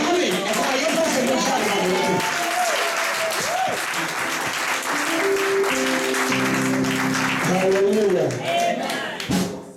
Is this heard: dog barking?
no